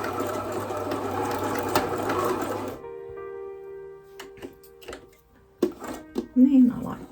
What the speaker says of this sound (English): with the needle all the way to the left, and sew across